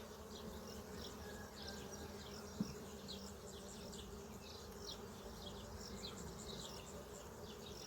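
A dense, steady drone of many honey bees buzzing around a hive during a hive inspection, constant and close, with one brief knock partway through.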